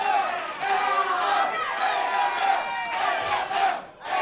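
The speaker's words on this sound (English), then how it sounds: "the crowd here at Johnny and June's is going absolutely bananas for this young man" Wrestling crowd at Johnny and June's cheering wildly for a young wrestler, a roaring mass of shouts and yells that swells in waves, loud and close, dipping briefly near the end.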